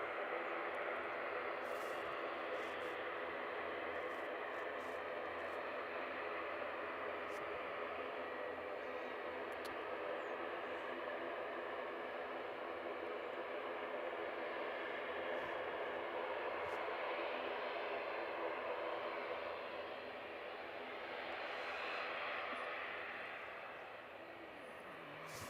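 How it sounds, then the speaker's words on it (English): ATR turboprop aircraft at Christchurch International Airport, its engines producing a steady broadband roar that holds for a long stretch before easing off slightly near the end. "So we've got an ATR here."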